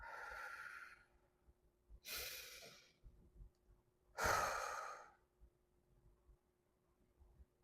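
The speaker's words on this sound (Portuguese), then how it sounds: "Uma respiração bem de encher o peito e sopre devagar." Quiet, close breathing: a deep breath drawn in to fill the chest, then slow, airy exhales, about three long breath sounds separated by near silence, with no one talking.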